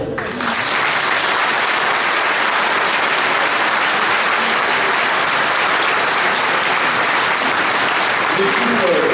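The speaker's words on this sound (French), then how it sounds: "je vous demande de les applaudir" Loud, dense applause fills a political campaign meeting in Valence, a continuous roar of many hands clapping close and steady for the whole stretch, with no break or fade.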